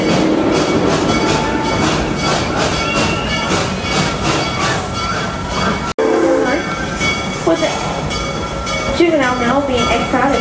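The Serengeti Express train at Busch Gardens in Tampa Bay, Florida rumbles and clatters steadily on its track, loud and close, with a whistle or horn sounding near the end and voices talking over the ride.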